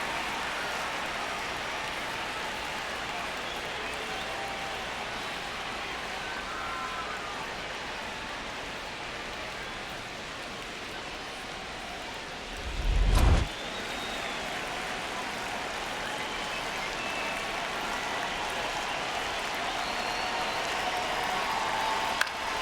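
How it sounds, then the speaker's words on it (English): Stadium crowd noise in the MLB The Show 26 baseball video game, a New York Yankees versus Marlins matchup: a steady, dense roar continues throughout, with a brief low thump just past the midpoint. "you can feel this crowd waking up a bit here"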